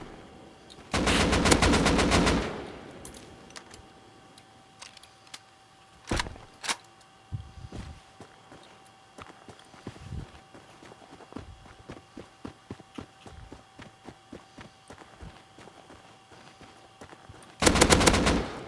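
Gunfire in the survival video game Rust, with two loud bursts of rapid automatic fire at the start and end and scattered single shots and footsteps in between, otherwise fairly quiet.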